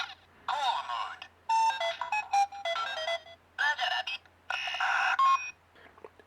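A Tokumei Sentai Go-Busters Morphin Brace toy in call mode gives out a sequence of electronic beeps, chirps and warbling tones in short bursts, close and clear with brief gaps between.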